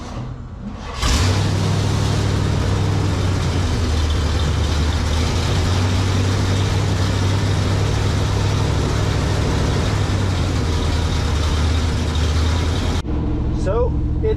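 A 1967 GMC half-ton truck engine cranks and catches, then runs loud and steady in a deep rumbling idle close by for over ten seconds before cutting off abruptly.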